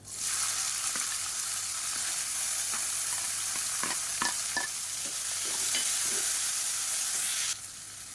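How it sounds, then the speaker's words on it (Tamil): Chopped onion, green chilies, curry leaves and asafoetida fry in hot oil, giving a steady, close hiss broken by scattered spoon clicks and scrapes from stirring. "இப்போ பாருங்கள் எல்லாமே நல்லா பொரியுது"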